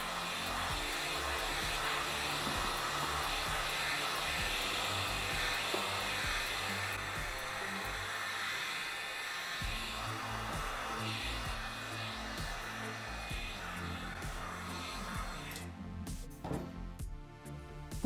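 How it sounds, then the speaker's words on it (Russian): Heat gun or hair dryer heats a plastic bottle around a used aerosol can to shrink it, producing a continuous loud blowing hum that runs steadily throughout, then breaks into brief bumps and handling noise at the end. "Вставляем баллон и начинаем нагревать."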